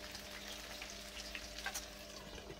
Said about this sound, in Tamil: இங்கே சிக்கனும் ஃப்ரை ஆகிட்டு இருக்குது.